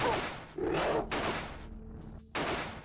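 Several loud, close gunshot blasts in quick succession, each with a broad crack and rumbling tail, part of combat in the video game Alone in the Dark: A New Nightmare.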